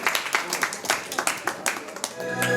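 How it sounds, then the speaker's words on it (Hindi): Audience clapping at a senior citizens' club gathering, a rhythmic, moderately loud clap in steady beats for a couple of seconds, fading as music begins at the end. "तो अपने लिए तो तालियां बनती हैं भाई"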